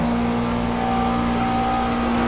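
A Grand-Am race car engine drones in the iRacing sim at Homestead, holding a steady, loud, close, even pitch throughout with no speech.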